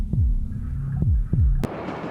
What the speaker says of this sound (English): The pounding rhythm of the mother's heartbeat is the first imprint the fetal brain receives.